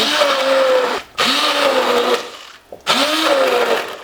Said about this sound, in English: With an immersion blender, I blend the tomato and the vegetable stock.